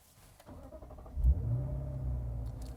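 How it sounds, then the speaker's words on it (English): Lexus IS 500 Ultimate Edition V8 cranking and firing up, settling into a loud, steady, rumbling idle close by. "Starting up the Ultimate Edition IS 500 here."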